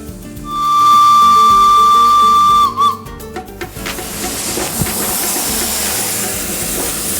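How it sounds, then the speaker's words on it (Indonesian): A German steam locomotive built in 1931 sounds a loud steady whistle that cuts off, then vents steam in a broad, continuous roaring hiss with rumbling mechanical clanks underneath. "Nah, ini dia nih loko uap yang bakal saya naikin nanti."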